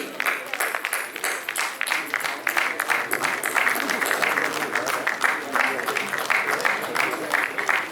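Loud audience applause at an agricultural science event in Uttar Pradesh, steady, dense clapping from a large crowd that carries on throughout, with a voice speaking over it.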